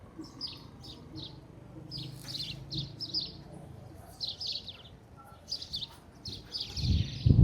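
Small birds chirp in quick bursts of high tweets, scattered and fairly close, over a low outdoor rumble that swells at the end, in a town square in Umirim, Brazil.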